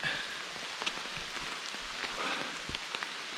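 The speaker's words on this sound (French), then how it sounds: "comme vous pouvez le constater, bah, il pleut." Steady rain pattering on wet foliage in a soaked Morvan forest, a dense continuous hiss with scattered individual drop hits throughout, no voices.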